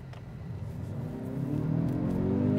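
A Hyundai car accelerates smoothly, its engine note climbing steadily in pitch and growing slightly louder, heard fairly quietly from inside with no talking.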